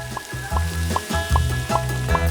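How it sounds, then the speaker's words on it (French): Sliced tortillas frying in hot oil for nachos give off a steady, loud, close sizzle with bubbling that runs the whole time, with no talking. "Il faut chauffer l'huile et faire frire les tortillas tranchées jusqu'à ce qu'elles soient dorées."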